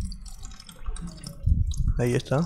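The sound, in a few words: coolant and water draining from Pulsar NS 200 motorcycle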